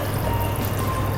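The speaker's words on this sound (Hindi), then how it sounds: "और इसमें पानी डाल के" Water pours steadily into a 1.7-litre Tupperware jug while rasam is being made, a continuous close splashing fill lasting about a second.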